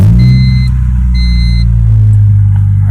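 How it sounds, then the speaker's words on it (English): A 1993 Honda Civic EJ engine running after start-up, a loud steady low idle rumble close by, with faint high whine tones briefly above it and no talking. "I'll start it up for you."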